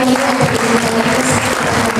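Audience at an event bursting into applause, a loud sustained patter of many hands clapping, with faint murmurs and a low tonal hum from the venue underneath.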